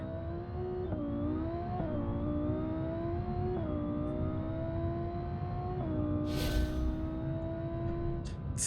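A car engine in the video game BeamNG, revving hard as it accelerates through several gear changes, each shift dropping the pitch before it climbs again, loud and continuous with no talk.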